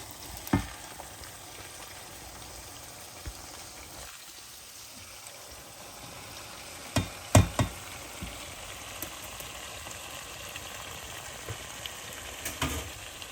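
Ackee is added to a frying pan for ackee and saltfish, setting off a soft, steady sizzle with a few sharp clacks of stirring scattered throughout.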